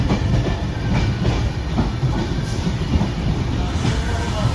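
Inside a Duronto Express sleeper class coach on the Ernakulam to Mumbai LTT run, the train rumbles steadily along the rails with a constant loud low roar and faint clatter throughout.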